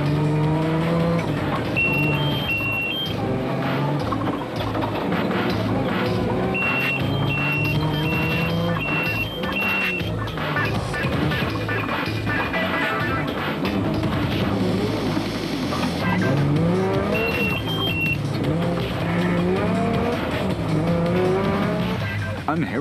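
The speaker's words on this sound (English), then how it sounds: "The Zermattens were still going well in their Nissan hardbody and nailing some of the slower traffic on the way" A Nissan Hardbody rally truck races past at the Hluhluwe 400 off-road rally, engine revving and droning steadily at close range, with a sporadic high whine, under continuous commentary.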